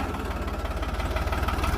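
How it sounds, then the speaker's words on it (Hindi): A New Holland 3630 tractor running with an 8-foot rotavator fitted: a loud, close diesel engine with a steady, throbbing low pulse that holds throughout, with no voices. "अब चलेगा 3630 पे रूटावेटर।"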